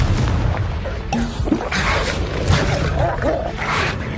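In the Hogwarts Legacy game, a Confringo blasting curse goes off in combat as a booming explosion with sharp impacts and crackling bursts, mixed with other noisy battle effects.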